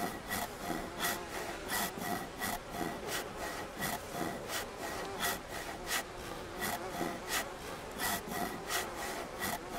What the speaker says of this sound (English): All the sawing is making me really hungry.